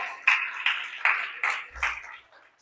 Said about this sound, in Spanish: Give God a hand. Dale un aplauso al Señor.